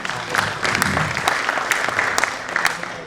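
An audience claps for presenters at a GDG Ahmedabad DevFest tech conference talk, a continuous patter of many hands with distinct individual claps popping out, moderately close and steady throughout, with faint voices underneath.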